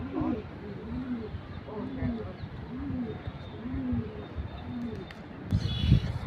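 Pigeons coo in a steady repeating rhythm of low, rounded calls, with a brief rustling burst near the end.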